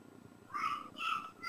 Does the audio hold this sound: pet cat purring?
yes